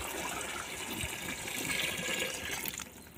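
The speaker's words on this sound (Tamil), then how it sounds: "இப்போ நம்ம வந்து தண்ணி சேர்த்துக்கலாம்." Water pours steadily into a cooking pot for rice at an outdoor hillside cooking spot, a continuous close splashing gush that runs for about three seconds and changes tone near the end.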